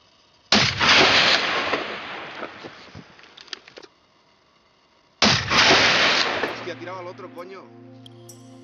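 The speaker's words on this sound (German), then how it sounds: "Während der erste Schuss fehlte, saß der zweite voll im Leben." Two loud rifle shots fired during an ibex hunt in Spain, each a sharp close blast followed by a long rolling echo that fades over a few seconds, the shots about five seconds apart.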